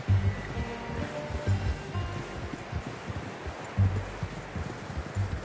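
Rhythmic horse hoofbeats clip-clop at a steady walking pace in the video game Red Dead Redemption 2, fairly close, over a soft rustling outdoor background.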